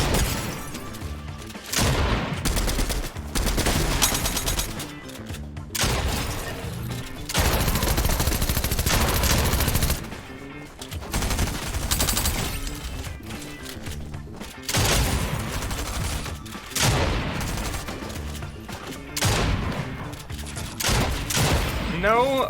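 Dense, continuous gunfire in the video game Fortnite, with rapid bursts and booming shots loud and close, nearly unbroken across the clip with a few short gaps.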